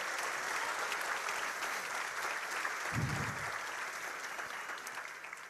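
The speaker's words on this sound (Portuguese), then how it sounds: "uma salva de palmas para Jesus aí, meu irmão?" A church congregation claps in sustained, dense applause, a steady wash of hands filling the hall at moderate distance, with a brief low murmur partway through.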